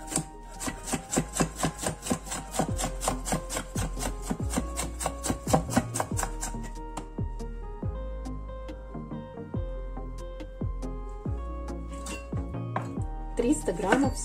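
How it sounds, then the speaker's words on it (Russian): A knife slices a bell pepper into thin strips on a cutting board, giving a quick, even run of close knocks that later slows into spaced single cuts. "Осталось нашинковать соломкой овощи. 1 болгарский перец."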